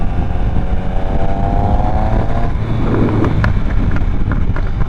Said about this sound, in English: It already has a very loud exhaust.